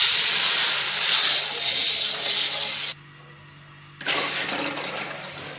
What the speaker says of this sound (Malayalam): ഇനി നമുക്ക് ഇതിലേക്ക് പാകത്തിൽ എടുത്ത് വെച്ച വെള്ളം പാരാം.